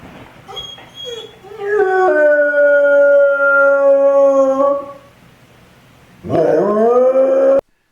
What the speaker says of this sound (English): Some dogs howl and cry.